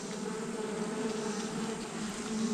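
Honeybees on a heavy hive frame during hive maintenance, a dense continuous close buzzing drone with no talk.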